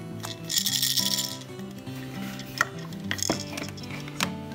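A toy keychain holding two green plastic keys, part of a Fisher-Price Laugh & Learn play purse set, is shaken in a few quick bursts of light plastic clacking. Music plays underneath.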